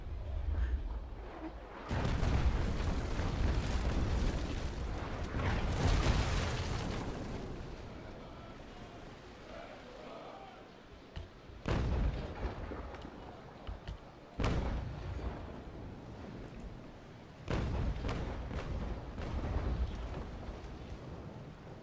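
Ship cannons fire in a Naval Action sea battle, heavy booming blasts that rumble on and off, with some rolling and some in distinct bursts.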